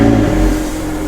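A Lister T350 sports car's engine revs in a brief, loud, sustained roar, close by and alone.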